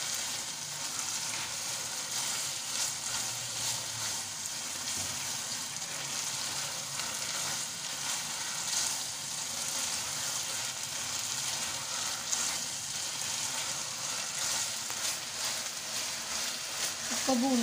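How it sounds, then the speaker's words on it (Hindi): Chicken keema sizzles and fries steadily in a pan for the whole stretch, a close continuous hiss with occasional stirring scrapes and a voice faintly underneath. "अच्छी तरह से इसको भून लें कि चिकन की ना कच्चे पान की स्मेल ख़त्म हो जाए।"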